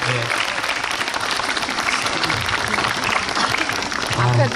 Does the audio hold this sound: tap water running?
no